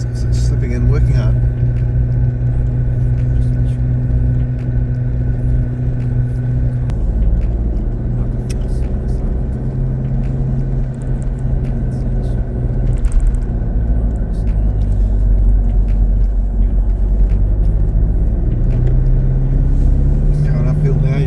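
A vehicle engine pulling uphill under load, with a slipping, hot-running torque converter, drones as a loud, steady low rumble whose pitch steps and shifts as it works up a small hill.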